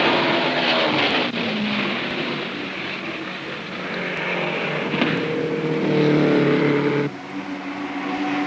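IndyCar race cars at speed during a 1975 race, a continuous loud engine roar with shifting pitch as cars pass, dense and sustained throughout, with no voices.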